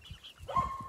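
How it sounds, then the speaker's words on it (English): Farm dogs give a short bark and whine, a brief vocal burst rising midway through a quiet outdoor moment with low rumbling in the background. "The dogs bark them."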